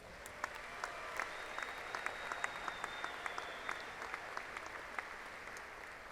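At Angelo State University's fall 2015 commencement, the audience applauds graduates with a soft, distant, sustained patter of many hands, scattered sharper claps poking through the even wash of sound.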